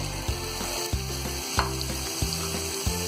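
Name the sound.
peas added to frying potatoes in a pan, sizzling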